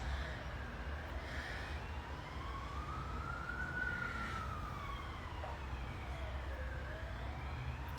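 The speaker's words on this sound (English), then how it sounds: "There's the sirens." An emergency siren wails in slow rising and falling sweeps, moderately distant over a steady traffic rumble, with no talking.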